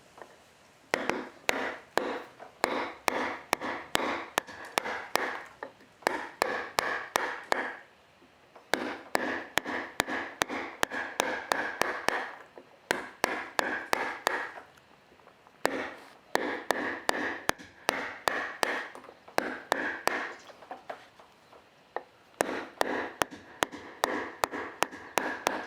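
Repeated sharp taps of a big wide chisel cutting into a wooden printmaking block, coming in quick rhythmic bursts separated by short pauses over a long stretch, close and clear with no talking.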